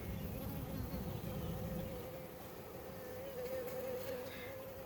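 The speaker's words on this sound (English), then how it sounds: "These are my Buckfast stock bees" Buckfast honey bees buzzing at an open hive on an overcast, rainy day: a soft, continuous drone with one bee's hum rising and falling near the microphone, no voices.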